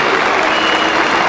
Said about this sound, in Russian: Аплодируют Дима Микановичу.